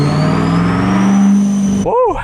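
A Chevrolet Corvette C8 on a dyno in fourth gear revs with a loud, rising engine drone that cuts off abruptly, then a short whine sweeps down and up while a voice speaks.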